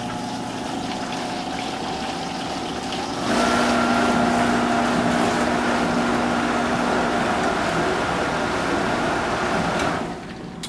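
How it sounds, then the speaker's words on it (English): A Moyer Diebel 501HT dishwasher's wash pump hum kicks in a few seconds along, joining a lower motor drone with water churning, then cuts off near the end. "Then you'll hear the wash pump come on."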